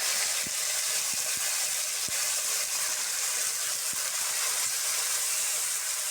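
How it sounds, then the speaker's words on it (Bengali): Tomato, green chilli and turmeric fry in oil in a pan for a soy chunk curry, a steady close hiss and sizzle that runs throughout with a few faint clicks of a spoon and no voices. "ভালো করে ভাজতে হবে কাঁচা গন্ধটা যাওয়ার জন্য"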